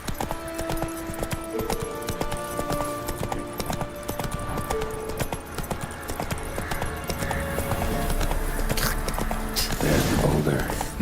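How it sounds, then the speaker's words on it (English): Horse hooves in The Witcher 3 video game clip-clopping in a steady walking rhythm under game music and ambience, with a louder burst near the end. "Come on, Roach"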